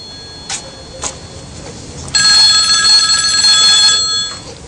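An office telephone rings with a bright electronic tone, first a couple of short faint chirps, then a long sustained ring lasting about two seconds before cutting off.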